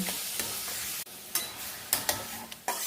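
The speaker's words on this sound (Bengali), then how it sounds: "এইবার এটাকে নাড়াচাড়া করে মেশাবো" Taro leaves (kochu shak) are stirred in a pan, with a soft steady sizzle broken by repeated scraping strokes of the spoon and one brief pause.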